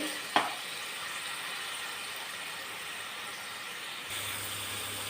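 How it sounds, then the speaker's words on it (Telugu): Masala paste with green chilies fries in a pan for a fish curry, a steady close sizzle with one brief clatter near the start and a low hum joining toward the end. "మసాలా బాగా వేగాలండి, వేగితే రుచి వస్తుంది."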